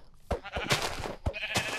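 Sheep in the Minecraft video game bleat in short repeated calls, close and fairly quiet, a few bursts spread across the moment.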